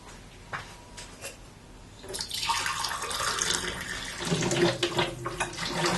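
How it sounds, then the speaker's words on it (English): Water poured from a hot traditional teapot, a soft splashing trickle that swells after a quiet start and continues steadily, close and moderately loud. "So I'm going to pour this water away."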